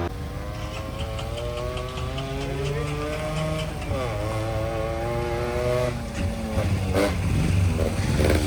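A Yamaha RX100 98cc two-stroke motorcycle engine drones steadily while riding on a high mountain pass road, its pitch rising and falling with throttle changes and gear shifts, close and loud with wind noise.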